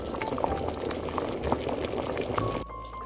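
A pot of bean and vegetable soup with diced potato bubbles at a steady boil, close and continuous with small pops and gurgles, ending in a low hum as the bubbling eases.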